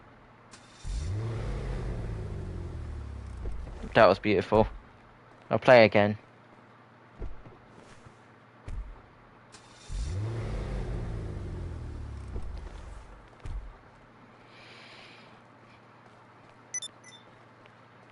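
Car engine in the GTA video game revving hard twice in long rising sweeps, with sharp bursts of high-pitched engine noise between, loud and close, with a person briefly talking.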